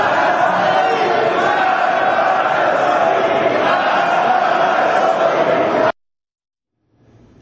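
Members of a parliament applauding a candidate for interior minister, a dense, steady wash of clapping from a large chamber that carries on loudly for about six seconds, then cuts off abruptly into silence.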